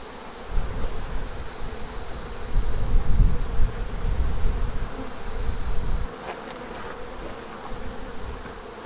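Honeybees swarm around an opened backyard hive holding capped queen cells, a dense, close buzzing drone that swells and wavers for several seconds and then eases to a thinner hum, with no voices.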